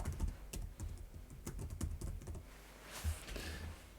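Keys on a computer keyboard clatter in a quick, uneven run of close, soft taps, with brief pauses between bursts of typing as text is entered, with no voices.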